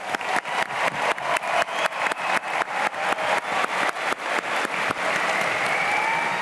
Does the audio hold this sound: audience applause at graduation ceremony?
yes